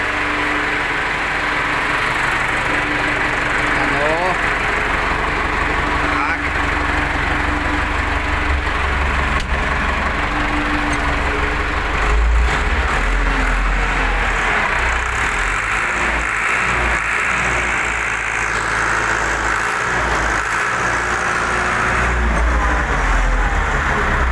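A Case tractor's diesel engine, just after engine repair, idles steadily and loudly nearby, a constant rumbling drone with slight shifts in pitch and vibration throughout.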